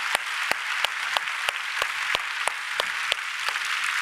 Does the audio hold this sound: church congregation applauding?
yes